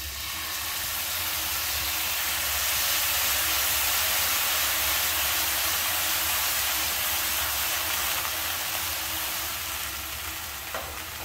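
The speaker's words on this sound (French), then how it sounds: "je verse l'équivalent d'un petit verre de sauce soja sucrée" Sweet soy sauce bubbling over sautéed endives in a hot pan, a steady broadband sizzle and hiss that holds evenly throughout with no talking.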